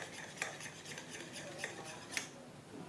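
Eggs being beaten with chili powder in a bowl: a utensil scrapes and clinks steadily against the bowl with a few sharper taps, close and fairly quiet, with no voices.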